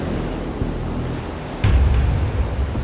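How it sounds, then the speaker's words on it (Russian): Ocean waves surge into a natural rock pool carved into a giant stone boulder in the Seychelles, a loud rushing wash that swells partway through against steady wind and surf noise. "А в ней вот такой природный бассейн, который заполняют волны океана."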